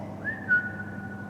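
Two overlapping whistles sound at once during a ghost-hunting investigation at Towneley Hall, a thin rising tone that levels off and holds steady for about a second over a low room hum.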